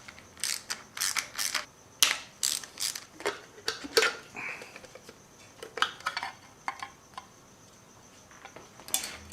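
Ratchet wrench loosening engine valve cover bolts during a teardown for a rod knock, giving repeated bursts of quick metallic clicking with short pauses between strokes, close and fairly quiet.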